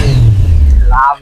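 A second-hand stock 2019 motorcycle with ABS in mint condition revving loudly and close in a used-bike showroom, a deep steady engine roar that cuts off abruptly near the end.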